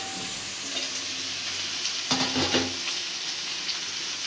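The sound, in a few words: ridge gourd added to frying onions, stirred in pan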